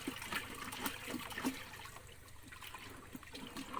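Liquid soil mix being poured out after shaking to loosen its sediment, a steady trickling splash with a few brief spurts, fairly close, no talk over it.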